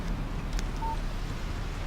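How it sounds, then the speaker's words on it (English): A short electronic text message alert tone from the Alan Wake video game, a single brief beep heard once over a steady low background hum. "Text message from Barry."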